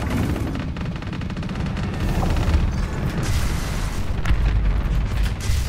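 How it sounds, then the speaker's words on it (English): Banshee ship in the space-combat VR game EVE: Valkyrie fires its laser amid a loud, continuous barrage of booming weapon fire and explosions that grows heavier partway through. "So with the Banshee, you can shoot this laser"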